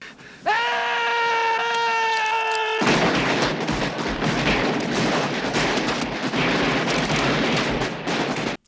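Dense, rapid bursts of gunfire crackle continuously and loudly after a brief sustained tonal wail, with a chaotic, battle-like texture throughout, from the 1985 film Pale Rider.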